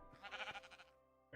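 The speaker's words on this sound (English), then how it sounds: "There's the sheep." A single wavering sheep bleat from the Minecraft-based modpack GregTech New Horizons, short and quiet, heard alone.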